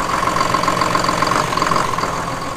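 A 2015 Hino cab-and-chassis truck, formerly a box van, idles with a steady, even diesel drone and faint clatter, close and continuous with no talk.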